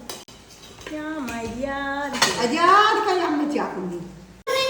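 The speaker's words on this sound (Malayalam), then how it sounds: "ഇതെങ്ങനെയാ കുക്കർ വൃത്തിയാക്കുന്നു" Metal pots clanking while a pressure cooker is scrubbed clean, light clinks and scrapes heard beneath a person speaking.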